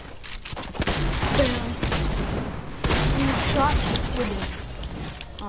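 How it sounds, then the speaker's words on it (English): Shotgun blasts in Fortnite gameplay on PS4, loud bursty gunfire layered with other game effects and a voice talking over it through most of the stretch. "Using my shotgun. Bam."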